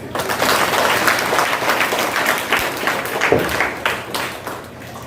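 A crowd at a memorial Mass applauds, dense sustained clapping that swells and then tapers off toward the end.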